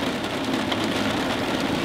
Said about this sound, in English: And then the rain started at the worst possible time.